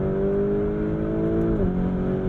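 A 2021 Lamborghini Urus engine and exhaust under way: a loud, steady, deep droning rumble that drops in pitch partway through as the throttle comes off.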